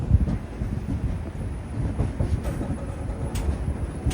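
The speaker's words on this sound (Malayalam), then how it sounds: "കുറ്റിപ്പുറം റെയിൽവേ സ്റ്റേഷനിലേക്ക് ഇതാ നമ്മുടെ ട്രെയിൻ എത്തിയിരിക്കുകയാണ്" The Mangala Lakshadweep Express pulls into Kuttippuram railway station, heard from on board as a rumbling roll of coaches with soft rhythmic wheel clacks, fairly close and steady, without speech.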